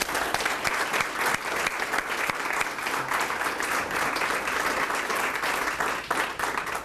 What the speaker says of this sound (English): I failed to recognize the grant recipients with an applause, and I'd like to do that now